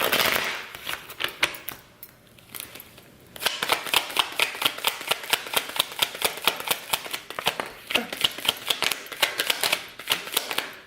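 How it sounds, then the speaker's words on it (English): Tarot cards are shuffled in rapid, rhythmic riffling flicks, close and fairly quiet, with a brief pause before a longer run of steady snapping shuffles. "Cards are flying like crazy."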